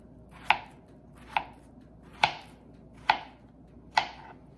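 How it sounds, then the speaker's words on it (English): A knife cuts through chicken on a cutting board in five evenly spaced, sharp chops, each a crisp close knock with quiet gaps between. "So I'm going to be slicing it into maybe about a 1/4 inch"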